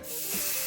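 A single steady hiss of aerosol hair spray, close and continuous for under a second.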